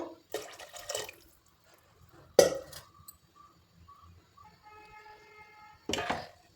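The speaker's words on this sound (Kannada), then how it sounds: "ಒಂದು ಗ್ಲಾಸ್ನಷ್ಟು ಎಕ್ಸ್ಟ್ರಾ ಹಾಕೊಳ್ತಾ ಇದ್ದೀನಿ" About a glass of extra water is poured into a pressure cooker for dal sambar. It makes a few short splashing pours and clinks, with quiet dripping and gaps between them, recorded close and without speech.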